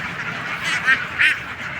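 Ducks at a duck and poultry farm give two short, fairly close quacks a moment apart over a low, quiet background. No voices are heard.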